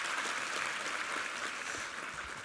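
Soft, dense applause from a church congregation during a Sunday worship service, heard as a faint, even patter of many hands clapping together without pause.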